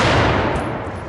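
Loud, continuous blast of gunfire at close range, a dense broadband roar that fades slightly over about a second, with no talking.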